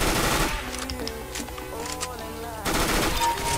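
Rapid automatic gunfire from the Counter-Strike: Global Offensive video game, loud bursts at the start and end with a quieter stretch of tonal game sound between them.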